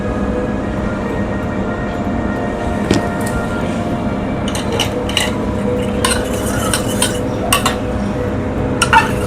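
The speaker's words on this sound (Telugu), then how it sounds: "ఇప్పుడు ఇందులో కొంచెం నేను ఈ కోకో పౌడర్ కూడా మిక్స్ చేస్తున్నా" Cocoa powder being mixed into a chocolate cake mixture in a bowl, with a spoon repeatedly scraping and clinking against the bowl in irregular taps over a steady background hum.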